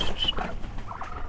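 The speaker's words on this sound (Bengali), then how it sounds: "এটা হচ্ছে চীনা হাঁস, এখানে বেশ 12টা হাঁস ছিল আর কি।" Chinese ducks in a small flock of about a dozen give a few short, honking and chattering calls at moderate distance, with quieter rustling between them.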